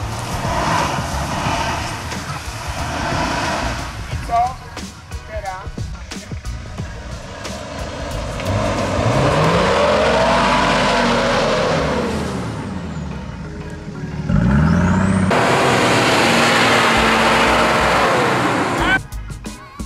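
An off-road jeep engine revs up and down in long swells, rising and falling repeatedly, with people talking over it and a loud burst of revving near the end, at an off-road jeep event in Zielona Góra.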